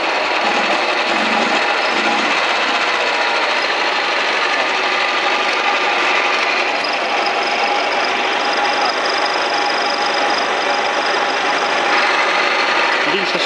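Small engine on a mini tractor or walk-behind tractor revving, a dense, rattly high-pitched roar that stays loud and close throughout with only slight swells, with a voice talking over it.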